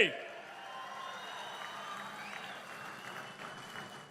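Crowd applauding at a political rally where the Andhra Pradesh Chief Minister is speaking, a broad wash of steady clapping and cheering that holds at moderate, slightly distant level throughout.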